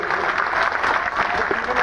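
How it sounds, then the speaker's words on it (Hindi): Applause from a large audience at a government outreach camp event held in a village panchayat, steady dense clapping throughout the short stretch, fairly loud and continuous without pauses. "आप सबके लिए एक बार ताली हो जाएगी"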